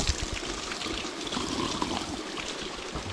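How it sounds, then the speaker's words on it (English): Cold, drinkable mountain spring water runs steadily from a natural fountain, a continuous close splashing and pouring wash with no talking. "this is a natural source of water you can drink"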